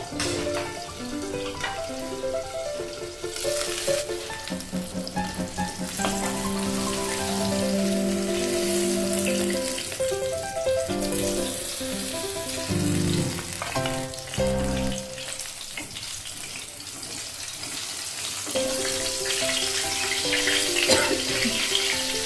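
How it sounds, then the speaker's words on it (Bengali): Aar fish frying in oil inside a covered pan gives a steady, dense sizzle and crackle like rain, moderately loud and continuous with no talking. "দেখো ঢাকা দিয়ে আমার মাছটা ভাজা হয়ে গেছে"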